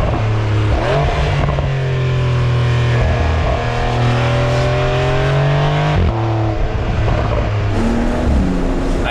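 A Porsche 992 Targa 4S with rear-axle steering drives hard, its engine droning loud and close with rising and falling revs, shifting and accelerating throughout.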